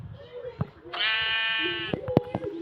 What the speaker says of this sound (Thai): โอ้แกะตรงนั้นนะ